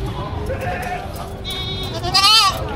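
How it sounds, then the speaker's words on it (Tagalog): Goats bleat at a busy livestock market, a wavering cry rising near the end over steady crowd murmur and background chatter. "Dalawang babaeng kambing."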